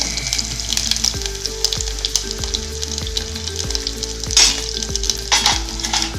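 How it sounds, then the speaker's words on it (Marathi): Mustard seeds and cumin hit hot oil for a Maharashtrian katachi amti, crackling and sizzling loudly up close with sharp popping bursts and stirring scrapes, and no voices. "मी तेल तापत ठेवलेलं आहे, मोहरी आणि जिरं घालायचं आहे"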